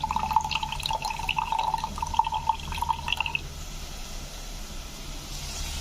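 Hot boiled cooking water pours steadily into a container for about three seconds, with a gurgling, ringing stream, then stops, leaving quiet kitchen background while green pea coconut milk rice is cooked.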